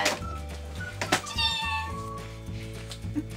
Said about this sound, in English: You have 7 seconds to find a cat.